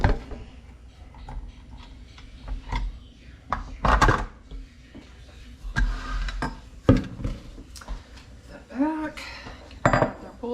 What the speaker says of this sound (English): We'll get it scraped into another bowl to chill